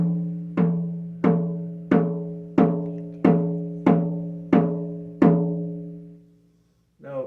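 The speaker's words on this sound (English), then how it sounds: "This next 10-inch drum is a reindeer." A 10-inch reindeer hide frame drum in European peg style with a wooden handle, beaten eight times at a steady pace, each resonant tone ringing out before the next, close and clear, with the last stroke left to fade before a voice begins.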